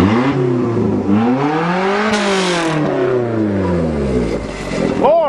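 A 1992 Toyota Corolla engine fitted with a modified exhaust revs up and down in repeated rising and falling sweeps, loud and close, with a sharp final blip at the end.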